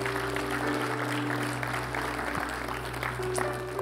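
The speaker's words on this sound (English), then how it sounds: "give the Lord a big round of applause this morning." A church congregation claps during a morning service, a moderate, fairly even ripple of applause over a low steady hum, with no voices clearly heard.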